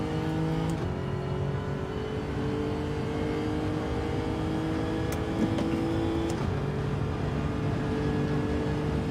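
Race car in Gran Turismo 7, engine holding a steady high drone with gear-like pitch steps and shifts, loud and continuous, no talk over it.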